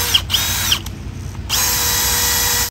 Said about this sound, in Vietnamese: Combo máy khoan với máy bắn vít mẫu đời mới